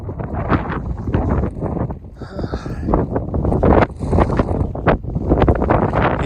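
Gusty wind buffets an outdoor microphone on a walk overlooking Arizona national monument cliff dwellings, a loud continuous low rumble that swells and dips throughout with no clear words.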